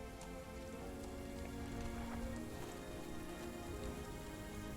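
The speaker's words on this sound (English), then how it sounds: "The rain is beginning to clear up." Steady rain falling on a surface, a dense, even patter that continues unbroken and at a constant moderate level for the whole stretch, with no voices present.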